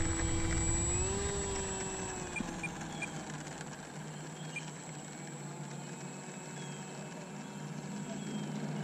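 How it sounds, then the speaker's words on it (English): An E-flite Icon A5 RC plane flies overhead, its electric motor giving a steady high whine that shifts slightly in pitch, moderately distant and even throughout, with no talking. "we're going to take up the e-flite Icon A5"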